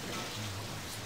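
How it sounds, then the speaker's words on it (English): Steady rain hisses across the Hard Rain map in Left 4 Dead 2, a broad, even wash of falling water that stays constant and fairly soft throughout the brief moment. "it's starting to rain again"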